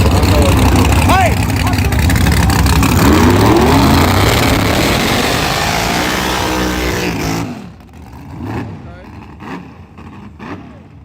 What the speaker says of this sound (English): Nice burnout.